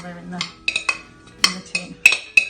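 Flapjack mixture put into a baking tin: a quick series of sharp metallic clinks and scrapes of a utensil against the tin, close and distinct.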